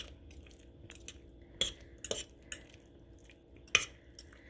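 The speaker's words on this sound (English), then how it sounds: "I'm just going in with my 2 forks" Two forks scraping and clinking against a dish as shredded chicken is pulled apart and mixed with cream cheese, a few sharp metallic taps over soft stirring, close and fairly quiet.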